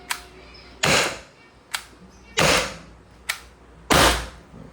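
A Target Airgun HDR68 cal.68 home defense revolver firing rubber balls, with sharp loud reports in an evenly spaced series, each answered by a brief click, close up with no talking.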